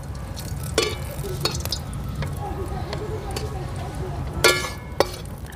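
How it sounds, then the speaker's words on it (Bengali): Dried red chili and a bay leaf sizzle in hot oil in a village kitchen, a steady low crackle with sharp pops and spatters, some louder near the end. "দিয়ে দেব একটা শুকনো লঙ্কা আর একটা তেজপাতা"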